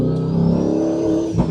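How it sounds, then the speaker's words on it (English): Tuned van engine running on a sport map while driving in second gear, a steady close engine drone with harmonic whine that swells slightly near the end; no distinct pops stand out. "you can hear it popping and banging away because of the sport map"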